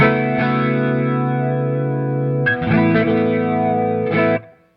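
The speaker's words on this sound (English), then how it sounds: "It's like the subtlest flanger." Sustained electric guitar chords with a subtle flanger's gentle swirling, sweeping modulation, ringing out loud and close, then several restrummed chords before fading.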